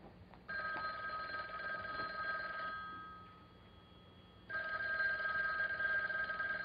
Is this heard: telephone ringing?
yes